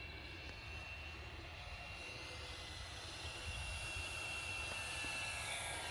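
An E-Flite radio-controlled model airplane flies at full throttle, its motor giving a faint, distant, steady buzzing whine that slowly grows a little louder across the stretch.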